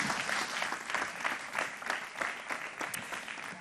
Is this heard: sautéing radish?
no